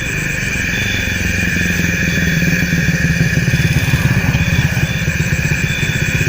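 A motorcycle engine runs close by with a steady, rumbling drone and slight revving, continuous throughout.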